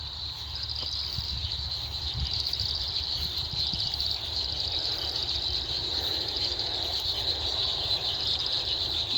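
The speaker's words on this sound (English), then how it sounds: "It's like we've got a whole orchestra of frogs." A dense chorus of frogs calls in a garden after rain, a steady high-pitched trilling that holds without pause, with a low rumble of background noise beneath and no talk.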